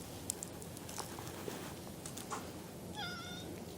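A cat meows once, faint and brief, after a few soft taps and rustles in a quiet, abandoned luxury building.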